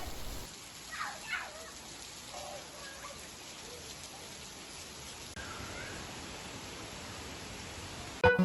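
Heavy unseasonal rain pours down in Khed town, a steady, even hiss of rainfall with a few faint background sounds.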